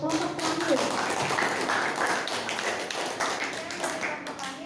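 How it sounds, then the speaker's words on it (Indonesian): Classroom applause for the final student group after a presentation, a steady broadband patter of many hands that stays fairly even throughout, with faint voices mixed underneath. "berikan tepuk tangan untuk kelompok terakhir"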